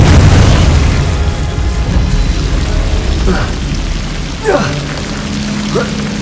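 Confringo explosion spell cast in the video game Hogwarts Legacy, a deep boom up front fading into rumbling debris, followed by a few sharper magical bursts and pops, with speech present.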